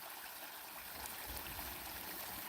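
Water flowing strongly from a well on a rural homestead, a constant rushing, gurgling wash with no pauses, faint and steady throughout with no voices.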